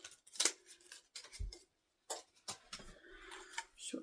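Soft papery snaps and light clicks of a deck of playing cards being cut and handled at a table, close and quiet, in short irregular bursts with brief pauses between them.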